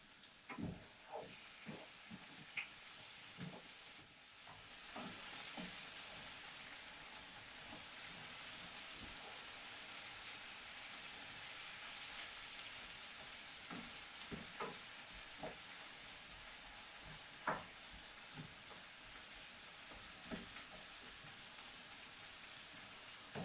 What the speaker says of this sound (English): A little more stirring